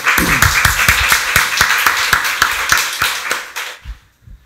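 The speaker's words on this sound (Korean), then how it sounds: "박수로 하나님께 영광 돌리겠습니다" A church congregation at a Sunday service claps together in loud, steady, evenly spaced beats that last about four seconds and then stop abruptly.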